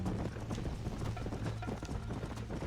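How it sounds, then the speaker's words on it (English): Horse hooves galloping in the Red Dead Redemption video game, a quick rhythmic clip-clop over a low rumbling backdrop, moderately close and steady, with no talking. "I was concentrating on getting back on my horse"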